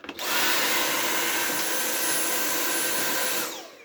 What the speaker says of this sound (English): I might as well vacuum the front